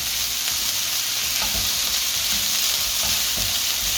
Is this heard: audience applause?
no